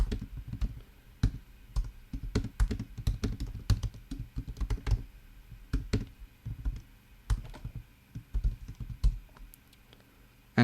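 Code typed on a computer keyboard, writing a JavaScript for loop: a steady run of close, quiet key clicks and taps in irregular bursts with brief pauses, with no voices.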